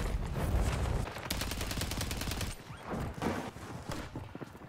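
Rapid gunshots in Call of Duty Warzone ring out in quick, steady bursts, with a long rattling string of fire, a pause, then more scattered shots at fairly close range.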